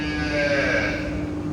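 Cows and calves at a cow shelter (gaushala) give a clear, close, sustained mooing call, held steady for over a second against a constant background hum, with no one talking.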